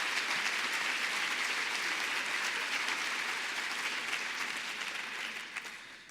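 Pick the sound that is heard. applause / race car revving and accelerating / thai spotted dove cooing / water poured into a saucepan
applause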